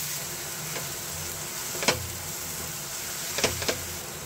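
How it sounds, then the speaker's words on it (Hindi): Spice powders and kasuri methi fry on medium flame for an egg curry, giving a faint, steady sizzle with a few sharp scrapes or clicks of a spoon against the pan. "मसाले को हम मीडियम फ्लेम पर ही फ्राई करेंगे"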